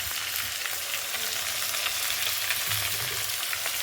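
Beef frying in a pan with small onions and green chillies makes a steady, even sizzle at moderate volume, with no voices.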